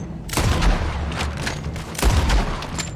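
A repeater rifle fires in Red Dead Redemption, with two loud, close shots about a second and a half apart, each cracking out over a steady rumbling background.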